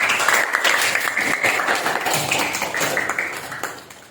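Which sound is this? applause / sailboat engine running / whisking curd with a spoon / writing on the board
applause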